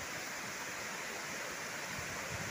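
Rushing water pours steadily at the La Poderosa waterfall in Zamora, a dense, unbroken roar heard up close and loud with no talking.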